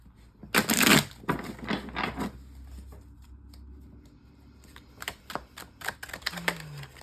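Tarot cards are shuffled by hand in a few quick riffling, rustling bursts, loudest near the start and then trailing into softer taps and slides, close and with nobody talking.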